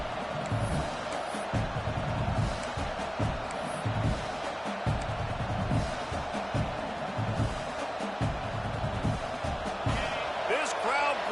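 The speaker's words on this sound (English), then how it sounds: "This crowd bringing the energy and noise early." Stadium crowd at a Florida Gators football game, a constant broad roar with scattered bursts of noise, heard beneath a commentator talking.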